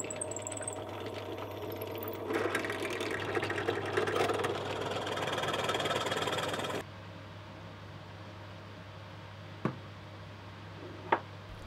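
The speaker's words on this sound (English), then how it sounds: "started drilling some holes in the metal to connect with the wood pieces" A power drill bores holes in metal parts for a wooden hydraulic paper press base, a steady whirring grind for several seconds over a constant low hum, then quieter with two sharp clicks.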